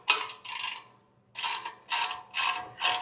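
A ratchet wrench tightens a fitting on an aftermarket Tlyard front bumper for a Tesla Cybertruck, with four or five quick bursts of close, crisp clicking separated by brief pauses.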